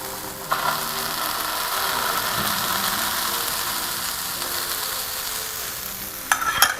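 Keto pancake batter sizzling in a Ninja cooker, a steady close crackling sizzle with a few sharper scraping or clicking bursts, no talking.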